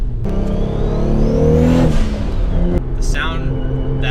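A Toyota Supra with an RB26 engine accelerates hard from inside the cabin, its loud engine note climbing steadily in pitch before a brief gearshift dip and a renewed pull. Someone speaks faintly underneath.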